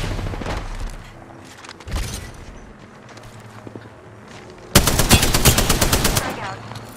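Weapon fire in Apex Legends on PS5: scattered shots early on, then a loud, sustained rapid burst of automatic fire near the end, with game sounds in between.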